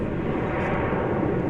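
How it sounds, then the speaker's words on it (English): American Airlines Airbus A321neo jet airliner, a brief steady rumbling engine roar, loud and continuous with no voices. "This American Airlines Airbus A321neo is going to San Francisco."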